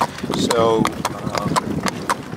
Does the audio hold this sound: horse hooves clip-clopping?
yes